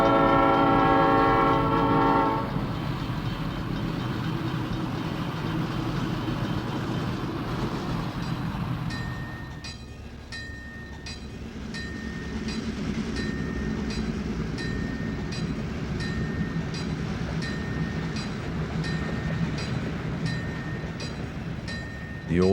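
Santa Fe passenger train hauled by F3 and F7 diesel units, following the Chief: a loud, steady rumble of passing diesels and cars, with a horn blast at the start and rhythmic clicking of wheels over rail joints through the second half.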